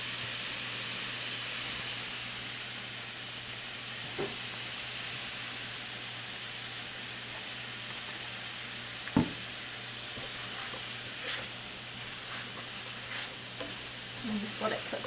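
Apple pie filling seasoned with fresh nutmeg and vanilla cooks in a pan with a steady, even sizzle and soft bubbling hiss, broken by a few faint stirring clinks, close and continuous.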